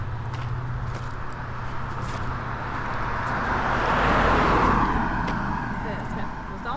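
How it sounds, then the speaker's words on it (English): A car approaches along a road, its engine and tire noise swelling gradually to a peak a few seconds in before easing off, heard under people chatting nearby. "Car coming."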